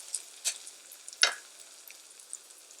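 Onion and ginger fry quietly in a pan as spices go in, giving a soft faint sizzle broken by a few sharp clinks and scrapes, with no voices.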